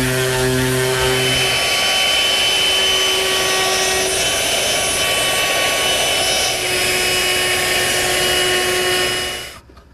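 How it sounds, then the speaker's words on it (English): Power sander smoothing a glued wooden library ladder frame and easing its corners, a loud steady whining drone that holds for nearly ten seconds before winding down at the end. "Now's the time to sand it smooth and ease the corners."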